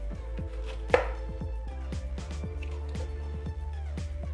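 A knife chops two green chillies on a board, with a brisk, steady run of close, crisp cuts that continues evenly from start to end.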